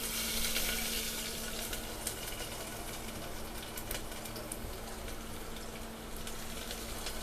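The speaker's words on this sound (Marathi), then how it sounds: "लसूण अशी थोडीशी खरपूस गोल्डन कलरमध्ये आपण थोडी फ्राय करून घेऊया." Garlic frying in oil with chillies until golden for a tempered dal, producing a steady, fairly quiet hiss and crackle with scattered small pops, no voices over it.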